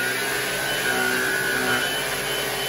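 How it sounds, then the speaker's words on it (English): A Black & Decker Powerseries vacuum cleaner runs continuously up close, a loud, steady whining motor drone with a high tonal hum and no speech. "it's such a smooth and easy way to vacuum"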